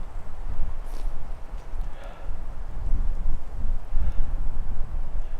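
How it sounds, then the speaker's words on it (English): Wind blowing at a winter hot tent camp, rough gusty rumble buffeting the microphone, swelling and easing in waves, with no other sounds standing out. "Wind's blowing from right to left"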